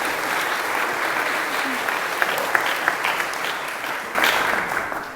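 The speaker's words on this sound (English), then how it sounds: "Little applause for you all." Applause from an audience at a high school baccalaureate ceremony held at St. James, a steady wash of clapping with a few sharper claps standing out and a brief swell near the end.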